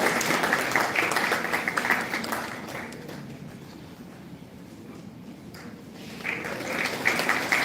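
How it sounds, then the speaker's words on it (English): An audience at an International Women's Day celebration at Lloyd Institutions applauds the chief guest, a broad wash of clapping that thins out midway and then swells again toward the end. "Can we please have a round of applause"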